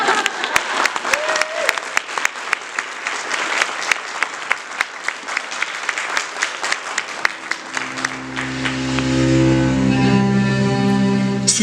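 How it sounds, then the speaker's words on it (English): Conference audience applauding at an Inuit studies gathering, steady dense clapping of a large crowd that swells into a louder sustained ovation toward the end, with a tonal musical passage rising underneath. "Maybe clap first, and then we'll play the video, and then you can clap again."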